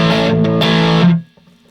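Electric guitar played through a custom pedal with both gain channels maxed, a thick, loud distorted chord that rings for about a second and then cuts off abruptly to silence.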